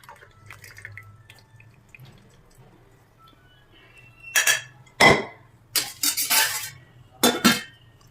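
Boiled homemade herbal hair oil is strained into a vessel, with a quiet stretch before a series of close, loud metallic clanks, scrapes and pouring splashes, followed by a final louder clink.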